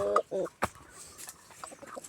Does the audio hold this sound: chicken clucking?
yes